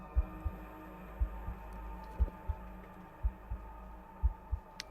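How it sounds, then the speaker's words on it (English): A slow heartbeat in paired lub-dub thumps, evenly spaced about once a second, deep and close over a low steady hum, with no voices. "as you get into the trees, the heartbeat comes back, but slowly"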